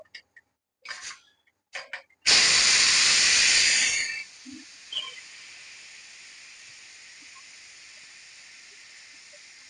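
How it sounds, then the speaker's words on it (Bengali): A pressure cooker of beef bhuna lets out a loud, close hiss of steam for about two seconds, which then fades to a faint lingering whoosh, preceded by a few soft clicks. "আমরা এখন প্রেশার কুকারটা একটু নামাবো নামিয়ে হাওয়াটা বের করে দেখবো পানির কি অবস্থা"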